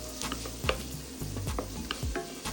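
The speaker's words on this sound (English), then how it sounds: "Let's go in with some onions and garlic. Cook for about 2 minutes or until the onion softens." Onions and garlic fry in a pan with a steady close sizzle, broken by stirring scrapes and clatter, with no talking.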